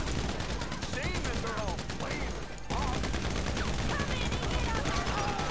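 Rapid bursts of gunfire from a weapon in GTA Online, dense and continuous across the whole stretch, with a short dip partway through amid a busy mix of game effects.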